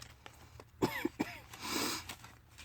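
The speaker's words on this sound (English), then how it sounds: "I need to cough really bad." A few sharp, close coughs in quick succession, followed by a breathy exhale.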